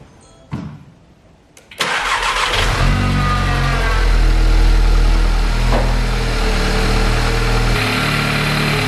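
An Audi S3 engine, just fitted with a replacement coolant shut-off valve, turns over after a couple of clicks, catches loudly and settles into a steady, rumbling idle.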